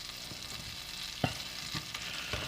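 Flour stirred into melted butter for a roux makes a soft, quiet sizzle with several faint scraping and tapping strokes from the spoon. No one is speaking.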